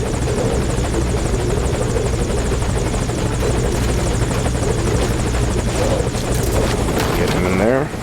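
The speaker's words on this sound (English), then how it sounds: "now that our chopper is here, let's get Chico inside the chopper" Helicopter in the Metal Gear Solid 5: Ground Zeroes video game, its loud, steady rotor thrum and whine holding close throughout, with a brief mechanical rattle near the end.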